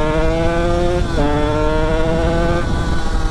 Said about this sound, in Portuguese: Não há igual a este barulho, motor a dois tempos